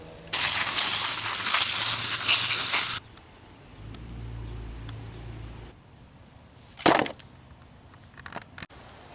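Running water sprays steadily for nearly three seconds while ponytail radishes are rinsed, then cuts off, followed by quieter handling noises and a sharp knock.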